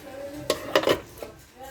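Large Evron baking pots and pans are handled in a kitchen, giving several sharp metallic clanks and clatters, a few in quick succession, moderately close, with brief faint talk in between.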